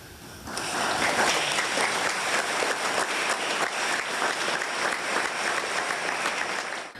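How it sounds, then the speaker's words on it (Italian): Long, steady applause from a funeral congregation as the coffin is carried out of a church in Treviso, sustained and dense at even loudness from start to finish with no talk. "Silenzio rotto dal lungo applauso che ha accompagnato la bara alla sua uscita dalla chiesa"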